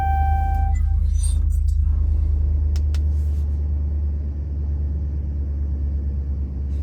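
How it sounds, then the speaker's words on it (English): A 2008–2010 Dodge Charger's engine rumbles at idle as a steady, low, close drone, with a few brief clicks and higher tones near the start. "So press the brake and start your vehicle to get to the next step."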